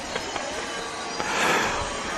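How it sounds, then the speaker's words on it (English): A train rumbles past near a high school football field with a broad, steady rushing roar and faint rail clicks, heard at moderate distance. "As the train goes by at Pace Academy."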